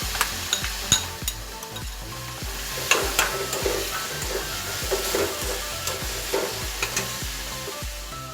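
Snake gourd and grated coconut being sautéed and stirred in a pan, with steady sizzling and repeated scraping strokes of the spoon at a quick rhythm, close and moderately loud.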